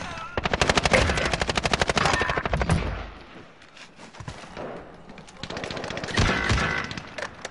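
A Kilo assault rifle with a 100-round magazine, sight and grip, fired in a video game: long loud rapid-fire bursts of close gunshots, a pause with scattered shots, then another sustained burst.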